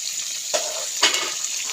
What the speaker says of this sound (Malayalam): അപ്പോൾ ഉണക്കമീനും കൂടെ വറക്കുവാണ് കൂട്ടുകാരെ